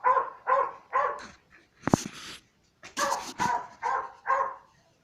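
A neighbour's dog in Mamanguape, Paraíba, Brazil, barking in a steady series of about eight loud, close barks, separated by short pauses and a brief sharper sound midway.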